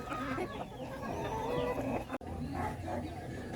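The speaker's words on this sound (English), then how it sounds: "These are fully grown chickens, but they're a little small." Fully grown bantam chickens cluck and murmur close by in a continuous overlapping chorus, with occasional higher calls and a brief dropout midway, and no voice over it.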